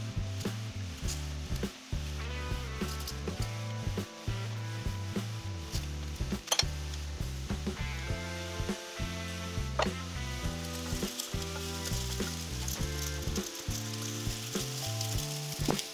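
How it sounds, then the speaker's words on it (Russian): Steady sizzling and crackling of zucchini frying in a pan, with occasional stirring clatter and soft clinks, no talking. "Долго кабачки не обжаривайте, достаточно, чтобы они пустили сок и слегка обмякли."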